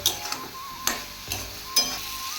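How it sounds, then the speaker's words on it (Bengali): Turmeric, chili and cumin powder sautéed in a pan with a soft sizzle, broken by a handful of sharp spatula scrapes and taps against the pan at irregular intervals. "এবার দিয়ে দেবো হলুদ লঙ্কা গুঁড়ো দিলাম সামান্য জিরের গুঁড়ো নিয়ে একটু কষিয়ে দেবো ভালো করে"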